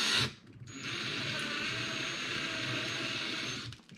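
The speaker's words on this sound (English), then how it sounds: "Drill a little bit more." Power drill boring slowly into a diecast toy car to swap its wheels: a steady, close mechanical whir with a grinding edge that runs for about three seconds without interruption, then stops.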